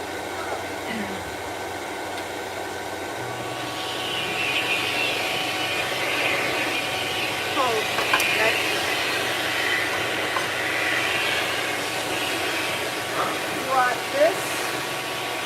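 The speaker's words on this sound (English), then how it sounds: "layer in the sound of the Schlandy dryer on top of that" A loud, steady pet grooming dryer roars continuously with a whooshing high hiss while drying a Himalayan cat after a bath, while voices murmur faintly underneath.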